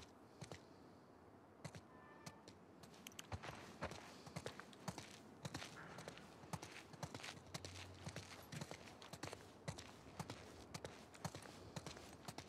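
Horse hooves clop across the ground in The Last of Us Part II, with irregular, close, crisp strikes repeating steadily through the stretch over a quiet background.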